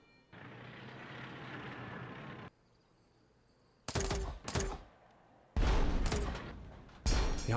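Bursts of tank gunfire from the Retro Tanks video game on Xbox One: a steady mechanical drone gives way to several sharp, loud cannon blasts in quick clusters, with brief quiet gaps between them.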